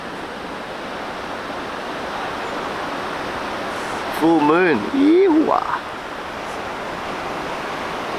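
Ocean waves break continuously at the Jeffreys Bay surf spot, a steady wash of broadband roar throughout, while a voice briefly speaks over it midway.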